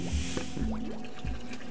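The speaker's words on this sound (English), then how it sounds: "that's the water coming out" Water gushes out in a whimsical puzzle-adventure game, heard as a few wet squishy bursts and bubbly gurgles spaced about half a second apart, close and fairly soft with no talk.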